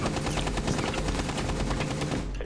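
Rapid automatic gunfire in Rainbow Six Siege, a loud continuous burst of evenly spaced shots lasting the whole moment, close and dominant with no voices.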